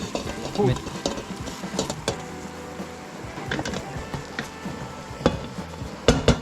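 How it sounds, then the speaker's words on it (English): Porcini and white mushrooms with garlic being stirred in a pan with smoked butter, giving scattered knocks and scrapes of a utensil against the pan, some sharp and close, over a soft sizzle. "Give everything a stir before adding all the white mushrooms."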